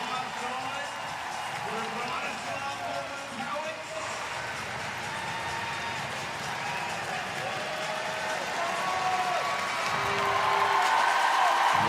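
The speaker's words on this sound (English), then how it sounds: "Crowd getting behind Big Bron." A crowd at the 2023 CrossFit Games applauds and cheers for the last athlete left on the competition floor, a sustained roar under continuous commentator talk that swells toward the end.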